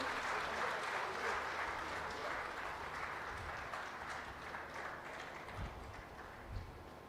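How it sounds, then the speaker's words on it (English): An audience at a Telangana public event applauds the Deputy Chief Minister with steady, slightly distant clapping that carries on for several seconds, joined by a few soft crowd noises and thumps. "let's give a resounding applause to him, please."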